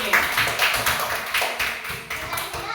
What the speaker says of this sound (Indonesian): Yo, tepuk tangan buat kelompok 2 yang sudah bagus nih.